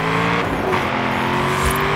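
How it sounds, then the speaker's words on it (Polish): Car engine in Forza Horizon 5, a V8 car with a rounded front styled like an Opel Calibra, holding a steady loud drone with rising tones like revving or acceleration, alone with no talk. "No i ten samochód brzmi fantastycznie"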